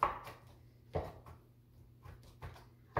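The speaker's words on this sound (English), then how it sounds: "I already drained and rinsed them and just give it a little chop." A knife chops drained, rinsed artichokes on a board, a few soft, separate thuds at uneven intervals over quiet background.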